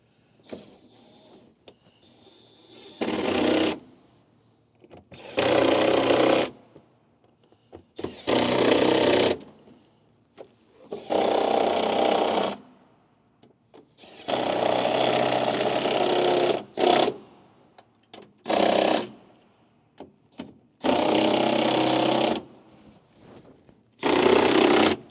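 Power tool spinning bolts down on a Scania truck, coming in repeated loud bursts of a few seconds each, separated by short quiet gaps, close up and with no talking over it.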